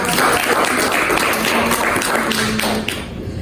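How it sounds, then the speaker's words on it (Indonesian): A studio audience claps for RRI radio at a Festival Bale Nagi 2025 interview, dense steady applause lasting about three seconds before tapering off, close and loud. "Kita aplaus dong untuk RRI"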